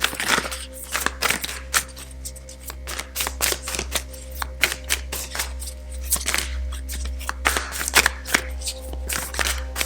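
Oracle cards are shuffled and dropped, giving rapid papery riffles, flicks and slaps in irregular bursts close by over a low constant hum.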